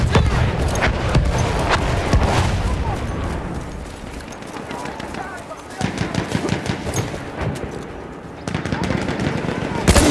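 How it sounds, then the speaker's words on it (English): Battlefield 1 battle with continuous machine gun bursts and heavy artillery blasts, loud and dense, rapid crackling fire broken by booming impacts, with voices calling out over the combat. "Enemy machine gun"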